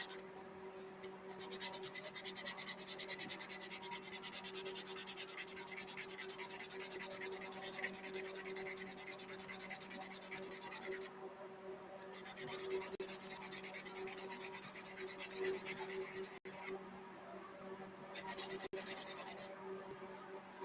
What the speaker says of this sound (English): Sanding a billiard right now.